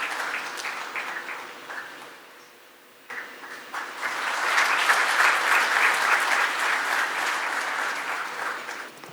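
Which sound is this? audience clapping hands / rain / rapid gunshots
audience clapping hands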